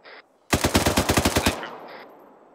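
Light machine gun fire in ArmA 3: one sustained burst of about a dozen rapid, evenly spaced shots, loud and close, with a faint tone before and after and no talk.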